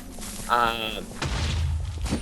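A booming explosion in Minecraft Dungeons, a deep low thud with a rumbling tail following a brief tonal in-game sound, loud and close.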